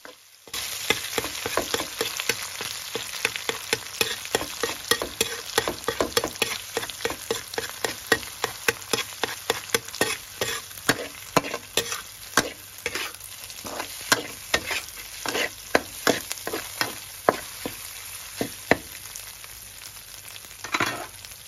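Thai curry paste stir-fried in a pan for a spicy crispy fried tilapia dish, with continuous sizzling and a rapid run of scraping stirring strokes throughout.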